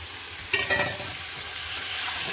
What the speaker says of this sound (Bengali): এবার যে সবজিটা আমি সাঁতলে রেখেছিলাম বাঁধাকপি, সেই সবজিটাও দিয়ে দেবো।